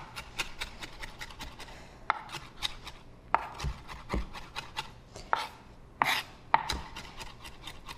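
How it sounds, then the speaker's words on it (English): A knife chopping fresh herbs on a cutting board in a kitchen, with rapid, irregular crisp taps and scraping strokes close by, without speech. "We'll just finish chopping this up really well."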